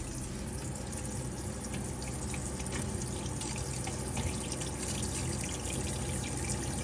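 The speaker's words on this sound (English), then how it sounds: "I'm just going to let the water come through on the hot side, and what will happen is it will start to cough and splutter" Water rushes steadily from the hot tap of a campervan as its boiler empties, a close, continuous gushing and spattering flow with no talking.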